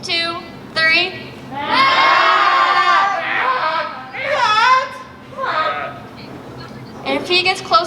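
A crowd of audience members, many sounding like children, shouts out together in loud, ragged bursts at a live pit performance, calling a performer back to the stage with short whooping cheers between the louder calls.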